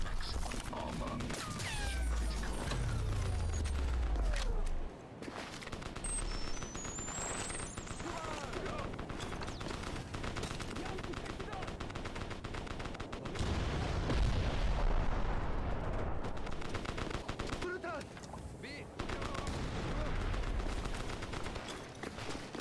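Sustained gunfire and explosions rain on the player in the video game Crysis, with rapid shots and booming blasts filling the scene continuously, peaking again in a heavy burst midway.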